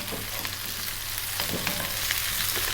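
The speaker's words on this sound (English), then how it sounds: "Stir frying this around." Cauliflower and broccoli being stir-fried in a pan for an Indian vegetarian rice dish, a loud, dense, continuous sizzle with a few soft scrapes of stirring and no talking.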